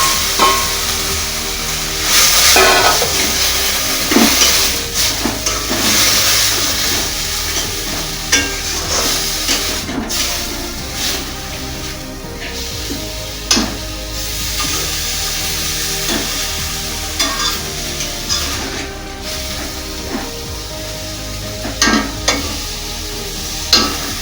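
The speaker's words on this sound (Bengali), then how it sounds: "এবার আমি লোটে মাছটা দিয়ে দেবো এর মধ্যে।" Bombay duck fish frying in a paste of onion, garlic and ginger, with steady sizzling and frequent sharp scrapes and knocks of stirring throughout.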